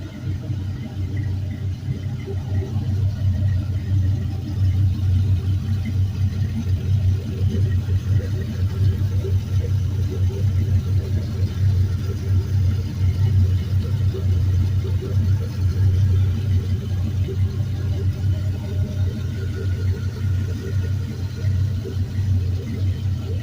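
A GM 5.3L LM7 V8 runs on a test stand with a steady, rumbling idle that holds an even pulse close by for over twenty seconds, and no voices are heard.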